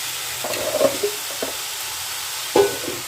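A fish chop mixture with ground cumin being stirred in a pan, a soft continuous sizzle broken by a few distinct scraping strokes of the spoon.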